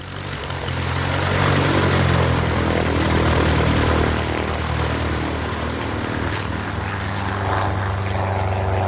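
A propeller airplane drones steadily overhead as a radio drama effect, its engine hum rising slightly in the first seconds and then holding a loud, even level throughout.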